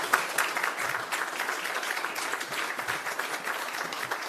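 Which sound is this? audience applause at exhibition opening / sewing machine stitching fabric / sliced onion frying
audience applause at exhibition opening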